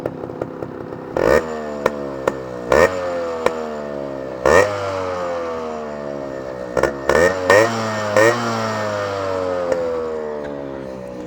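A Yamaha RX100 motorcycle with its stock exhaust idles with a steady two-stroke putter, then is revved in a series of sharp, repeated throttle blips, each rising and falling back to idle, loud and close throughout.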